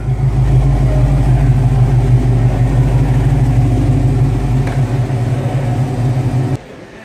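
A 1969 Chevrolet Camaro fitted with a 7-liter LS7 V8 from a C6 Corvette Z06 idles with a deep, loud, steady rumble close by, then cuts off abruptly near the end.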